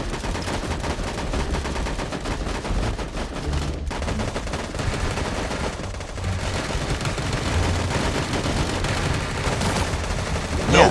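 Gunfire in the video game Sausage Man, rapid continuous bursts of shots that go on loud and dense throughout, with game effects mixed in and a voice talking faintly underneath.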